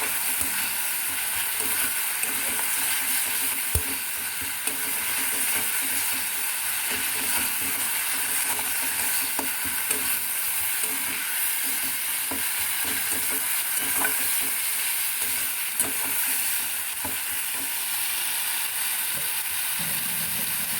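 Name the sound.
stirring and frying masala for egg korma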